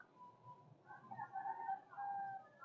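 A bird calls outdoors near a rest house among coconut and mango trees: a faint, short, tonal rooster-like crowing phrase over quiet background murmur.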